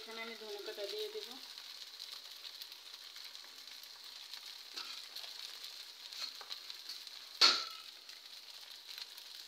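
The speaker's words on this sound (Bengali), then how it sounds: "এই পর্যায়ে আমার লুডুস ফ্রাই হয়ে এসছে" Okra frying in a pan: a soft, continuous sizzle with a brief voice at the start and one sharp clatter of a utensil near the end.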